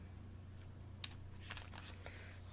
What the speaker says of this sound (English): I'm going to shuffle the cards as I think about your question